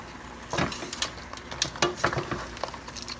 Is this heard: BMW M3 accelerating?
no